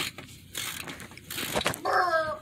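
A ratchet works loose a 10 mm mount bolt on a 1996 Honda Civic, giving a few bursts of close, fast clicking in a quiet garage.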